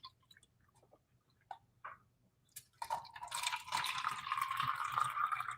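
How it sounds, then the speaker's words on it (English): Water being poured into cups, half a cup each, for a phase-change experiment. A few soft drips and clinks come first, then a steady, close pour runs to the end. "let's take our cups and let's fill those both with a half cup of water"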